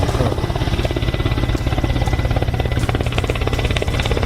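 A helicopter at an air force display on an expressway produces a steady, loud rotor throb with dense broadband engine roar throughout, no voices.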